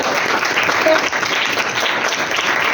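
Loud applause from a church congregation during a sermon by Pastor Fouzia Ghouri: sustained, dense clapping close up, with some crowd noise blended in throughout.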